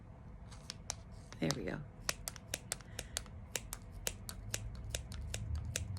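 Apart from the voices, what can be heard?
scissors clipping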